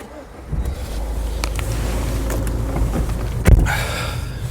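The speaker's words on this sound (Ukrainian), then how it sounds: "карту вставили, нажали старт." A Citroen C4 Picasso 1.6 HDI diesel engine turns over via start button and settles into a steady idle, with a clunk and some faint clicks, recorded close inside the car.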